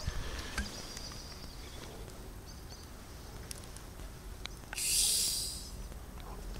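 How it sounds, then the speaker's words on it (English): Carbonated Coca-Cola being mixed with water in a bottle for use as a pesticide releases a brief, soft hiss of escaping bubbles lasting about a second, set against an otherwise quiet room with a few small clicks. "Oh damn, there goes the bubbles."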